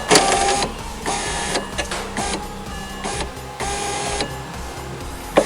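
Rear power window motor in a BMW E90 runs the window regulator, a close mechanical whirring drone that starts and stops in several short bursts with brief pauses, no voices.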